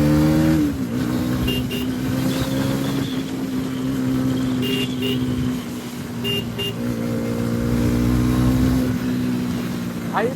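A Bajaj Pulsar NS400Z motorcycle engine pulls hard at full throttle, a loud, close, steady drone rising in pitch through the gears, with a brief shift dip midway and wind noise over it.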